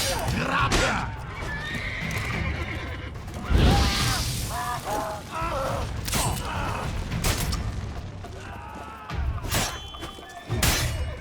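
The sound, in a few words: horses neighing in The Witcher 3: Blood & Wine video game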